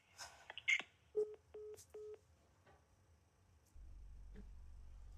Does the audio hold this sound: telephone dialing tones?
yes